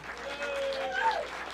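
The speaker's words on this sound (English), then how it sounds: "big applause" Audience applause at a candidates forum held in a bar and grill, a brief burst of many people clapping with a thin whistle rising over it.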